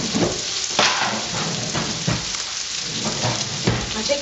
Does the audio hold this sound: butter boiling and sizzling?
yes